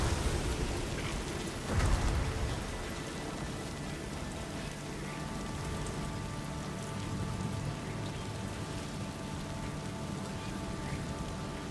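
Timefall rain in the video game Death Stranding 2 falls as a steady, dense hiss of rainfall with a brief louder patter early on, constant and enveloping throughout.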